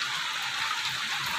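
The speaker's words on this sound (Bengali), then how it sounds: "প্রচণ্ড বৃষ্টি হচ্ছে" Heavy rain pouring down during a rainstorm, a dense, steady hiss with no breaks, fairly loud and even throughout.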